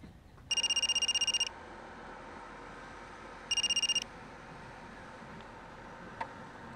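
A telephone rings in two short electronic bursts of rapid trilling, about a second each with a pause between, loud and clear over a quiet room hum.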